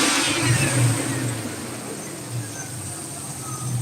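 Truck engine revving at close range, a loud surge that settles into a steady rumbling idle, with faint birdsong behind.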